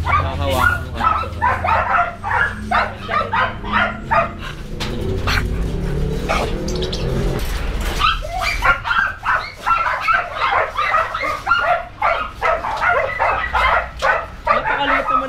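Small corgi dog yipping and whimpering at close range, with a rapid run of sharp repeated barks in the second half, while people talk over it.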